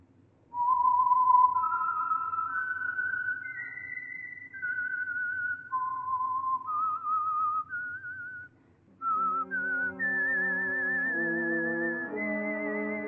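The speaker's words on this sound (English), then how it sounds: "the signal to listen for is this whistle that identifies the signal oil program" A lone whistled theme for an old-time radio mystery drama, a clear melodic tune of sustained notes that rise and fall, ending with a fuller orchestral chord phrase beneath the whistling.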